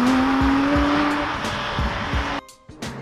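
A Porsche 911 GT3 RS drives at speed with its engine droning steadily and several quick rhythmic blips while double clutching, then a sharp drop and brief pause before the engine picks up again, all close and loud.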